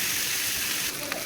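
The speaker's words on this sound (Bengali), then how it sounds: "আমার ভাজাটা চলছে" Onion, green chili and ginger-garlic paste frying in a pan, a steady broadband sizzle with a soft stir near the end, close and continuous, no voices.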